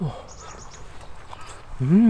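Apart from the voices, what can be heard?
wild bird calling at campsite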